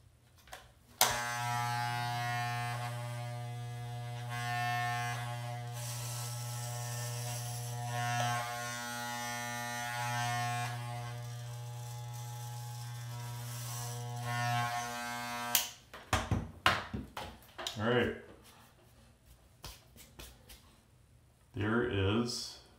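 Electric hair clippers buzz steadily and close up for about fifteen seconds while trimming hair, their hum dipping slightly as they move, then cut off and someone talks.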